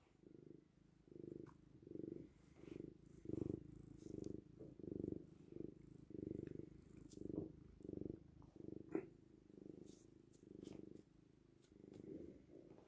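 A cat purrs up close in a steady, soft rhythm, each breath in and out forming an even pulse about twice a second, with no talking.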